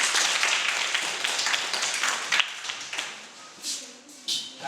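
A class of pupils claps for a classmate's test result, a crowded patter of hands that fades into a few scattered, separate claps, with faint talk in the room.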